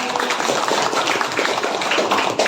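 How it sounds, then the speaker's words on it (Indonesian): A class bursts into a short round of clapping, dense and fairly loud, lasting the whole brief moment with no talking over it. "Tepuk tangan."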